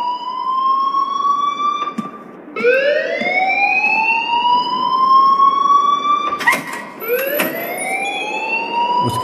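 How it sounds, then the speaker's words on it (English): A loud rising-and-falling alarm wails repeatedly in the Life is Strange game, each sweep climbing in pitch and holding, with sharp clatters between cycles. "Leave Miss Caulfield alone and please turn off that alarm"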